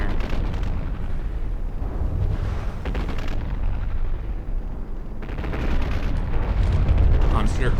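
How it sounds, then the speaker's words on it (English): Cram cannon volleys and explosions pounding battleships in a naval combat game, a dense, continuous barrage of booming shots and blasts rumbling loudly throughout, with no letup. "Just kind of constant cram volleys coming in here."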